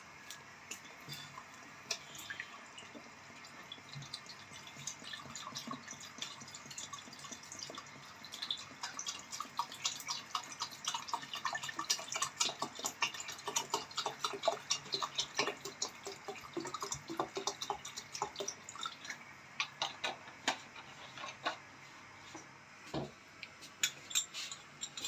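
Water is poured into a soup pot, a steady close splashing and trickling stream that grows fuller midway, with scattered drips and clinks toward the end, and no talking.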